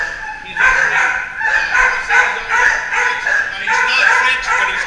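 A shelter dog yips and whimpers in a high, strained run of short cries that rise and fall across the whole stretch, fairly close and loud, with no speech over it.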